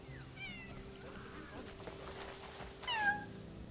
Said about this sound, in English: I see a tiny baby kitten.